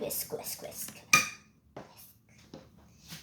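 A whisk clinks against a bowl while mixing pancake batter, a few quick metallic scrapes and taps with one sharp clank, sparse and close.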